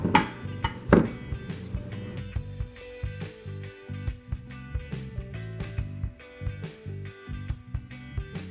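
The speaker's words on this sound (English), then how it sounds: "Now you're just going to take the red velvet mix and drop it along the top of the brownie batter." A spoon drops red velvet cake mix onto brownie batter in a pan. Steady light clinks and taps of metal on the pan repeat at a moderate pace, close and fairly quiet, with no voices.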